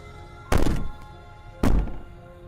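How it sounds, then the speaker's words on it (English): Banging on a door in the video game Slay the Princess: two heavy, loud thuds roughly a second apart, each with a short booming decay, and no voices. "Maybe the banging and wailing will stop if you just don't pay attention to it."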